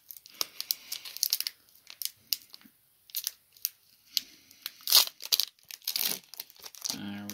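A foil hockey card pack wrapper is slowly torn and crinkled open, with bursts of sharp ripping and rustling broken by short pauses, loud and close.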